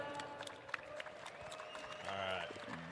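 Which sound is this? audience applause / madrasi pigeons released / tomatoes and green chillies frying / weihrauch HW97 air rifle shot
audience applause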